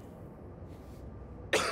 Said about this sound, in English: Sure, man, you cough a lot.